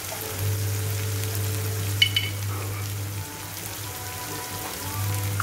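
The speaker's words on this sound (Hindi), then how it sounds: "अब मैं इसमें कुछ मसाले डालूंगी।" Half-spoonfuls of red chilli powder and turmeric frying in hot oil in a pan for a rajma curry: a steady, fairly soft sizzle with a constant low hum underneath and a couple of brief clinks near the middle.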